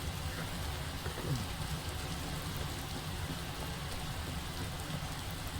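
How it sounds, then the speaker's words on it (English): Rain in Fallout 4, a steady, noisy hiss of falling drops spattering on surfaces, constant and fairly close throughout. "It's bloody rainy and noisy, isn't it?"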